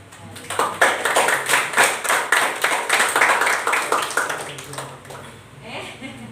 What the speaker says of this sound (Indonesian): Mari kita beri aplaus kepada